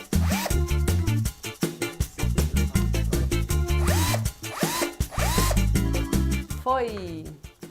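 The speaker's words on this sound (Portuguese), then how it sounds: "Troquei as brocas e agora vou fazer os 3 furinhos mais largos na parte de trás do cabideiro" A power drill fitted with a flat spade bit bores wider holes into the back of a wooden coat rack, its whine rising and falling in repeated bursts, close and loud.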